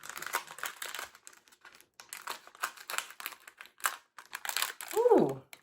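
Biscoff cookie package being torn open with crinkly plastic rustles and crackles, close and moderately loud, with brief talk mixed in.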